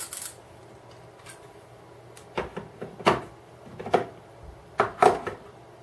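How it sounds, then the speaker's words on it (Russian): Ratchet handle from a KING STD KSD-108 108-piece screwdriver and tool set gives sparse, sharp metallic clicks and ticks, a few isolated bursts, close and clear over a quiet background. "подключать сюда вот трещотку, будет такая вот реверсивная отвертка."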